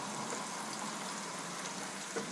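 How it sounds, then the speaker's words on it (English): Onions sizzle in a pan for French onion soup, a steady, fairly quiet crackling hiss that holds even throughout without any talking. "Can you hear it sizzling?"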